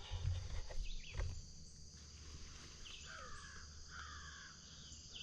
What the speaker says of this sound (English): We got crows down there now.